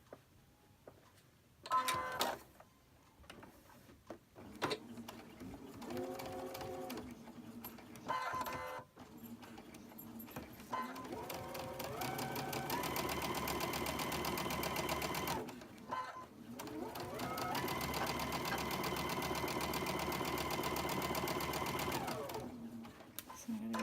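Sewing machine stitching two quilt block pieces together with a fabric strip, bursts of rapid needle clatter that stop and start, a long steady run in the middle, with someone speaking between the bursts.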